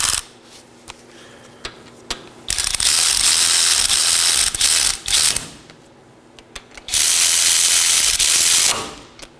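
A ratchet tightens the 14 mm front brake caliper bolts on a 2013–2019 Nissan Sentra, giving two loud, close bursts of rapid clicking separated by quieter handling noise.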